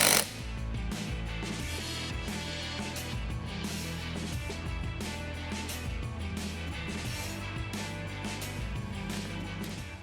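Power tool running down beadlock nuts on a wheel for 37x12.50 Nitto Trail Grappler tires, a steady continuous mechanical whir with rattling impacts, close and loud throughout, no talking.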